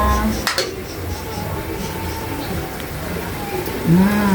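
A utensil clinks and scrapes against a pan while spaghetti with ground pork is stirred, a few metallic taps and soft scraping under a low kitchen background, with a brief tonal squeak near the end.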